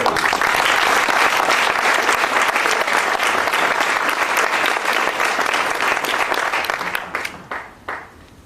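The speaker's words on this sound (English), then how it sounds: "May I hear a round of applause?" Sustained audience applause at a lifetime achievement award ceremony, dense steady clapping from a large crowd that carries on at full strength before thinning into a few scattered final claps.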